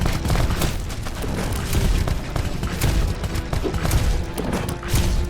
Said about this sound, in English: definitely shooting fiery bullets